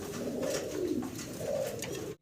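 Large Mondain pigeons at a farm give low, throaty coos in two rolling phrases, close and clear with no voices over them.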